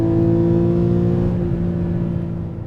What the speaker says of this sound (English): the distinctive exhaust note of the Boxster makes you think about, raw, open exhaust race cars